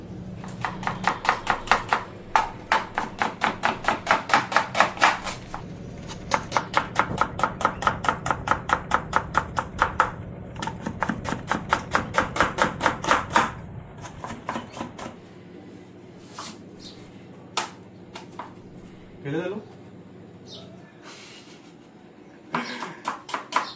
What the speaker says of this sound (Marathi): आता पटपट कापून घेतो त्यांना.